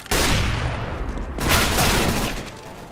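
MAC-10 submachine gun firing in the video game CS:GO, a dense rapid burst of automatic gunfire lasting the full three seconds, loud and close with a slight swell partway through.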